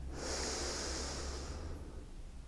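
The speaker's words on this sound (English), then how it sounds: "taking a nice deep breath in through the nose and out through the mouth" A deep, steady inhalation through the nose during a gentle yoga flow, a soft airy rush lasting about two seconds, close and alone with no talking.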